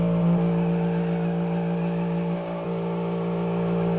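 A V8 ute engine in the car-building game Automation holds a steady, loud revving drone while the vehicle spins donuts, with a brief dip in pitch partway through.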